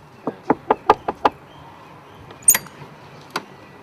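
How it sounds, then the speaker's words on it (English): Knocking on a door: a quick series of six sharp raps, then a louder thump a moment later and one last single knock, close and distinct with little else around them. "you've got the AD knocking on your door"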